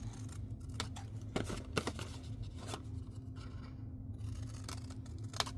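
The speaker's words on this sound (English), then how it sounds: "you can just do your scissors because it's a pretty short cut" Scissors make several short, crisp snips through paper card while a craft explosion box is folded, with light rustling between the cuts at close range.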